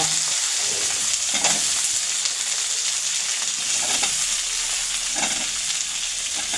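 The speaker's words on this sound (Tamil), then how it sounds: "போட்டு கொஞ்சம் வதக்கி விடுங்க. வதங்கின பின்னால் பச்சை மிளகாய் போட்டுக்கோங்க, வெங்காயம் போட்டுக்கோங்க." Green chillies and onion sauté in oil in a pan for coriander chutney, giving a continuous close sizzle with a few soft stirring scrapes spaced a second or so apart.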